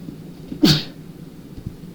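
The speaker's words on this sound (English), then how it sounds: "Sneezing first thing in the morning." A single sharp sneeze, close and sudden, in an otherwise quiet room with light background noise.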